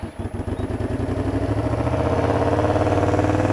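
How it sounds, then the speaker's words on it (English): A Honda VTR250 V-twin motorcycle cold-starts on half choke with a cranking stutter, catches, and settles into a steady, loping idle, close and fairly loud. "She's away and running. V-twin."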